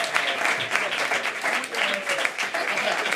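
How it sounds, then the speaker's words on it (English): A live audience at a dance festival studio session claps steadily and densely for three instructors, a warm continuous wash of applause with scattered voices underneath. "Everybody, please give a round of applause for Peter Strom, Naomi Uyama, and Skye Humphreys."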